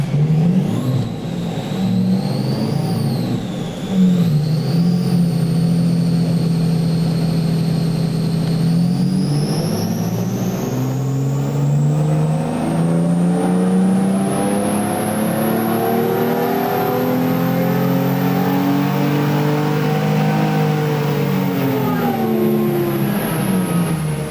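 A car engine on a dyno runs a full-power ramp, its loud engine note climbing steadily in pitch over about twenty seconds with a rising whine, close and continuous with no talking.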